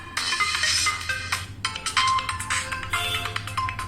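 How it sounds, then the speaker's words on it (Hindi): The Landscapes ringtone on an Oppo F1 Plus phone plays alone, a bright electronic melody of repeated chiming notes over a low steady hum. "हमारी अभी ये वाली रिंगटोन सेट है लैंडस्केप्स"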